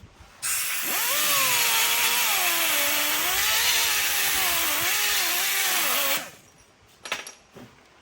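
A burr bit on a rotary tool grinds metal on an 88-98 Chevy C1500 truck, making a loud, continuous whine for almost six seconds with wavering pitch under load, then stopping, followed by a few light clanks.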